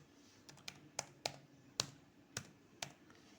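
A password being typed on a computer keyboard, heard as about eight sharp, separate key clicks at an irregular pace, close and fairly quiet, with no talking.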